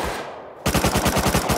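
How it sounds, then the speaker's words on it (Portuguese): Rapid automatic gunfire from the survival video game Rust, a fast steady burst of shots that starts abruptly after a brief lower rumble and continues loud and rhythmic to the end. "Muito tiro."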